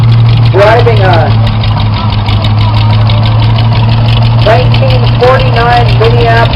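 A 1949 Minneapolis tractor engine idles steadily and loudly at a harvest reunion show, its low droning hum continuous throughout while people talk over it.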